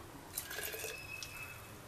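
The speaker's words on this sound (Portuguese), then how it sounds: "Vamos colocar um pouquinho dessa água já dentro do nosso pote." Tomato cooking water being poured into a jar in a home kitchen, a short soft trickle and splash of liquid lasting under two seconds, close and fairly quiet with no talking.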